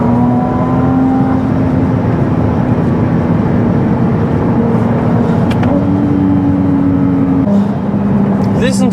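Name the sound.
sports car turbo blow-off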